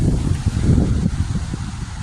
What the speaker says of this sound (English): I know it's a bit windy